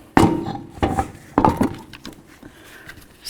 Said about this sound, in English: Let's get our wheel up on here.